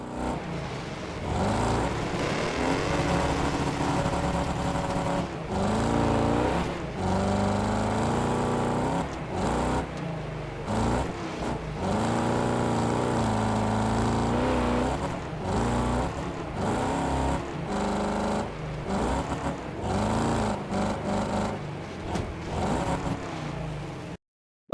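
Race car engines in Wreckfest 2 roar and rev continuously, several cars close together with shifting pitch as they accelerate, brake and jostle, loud and steady throughout with no talking.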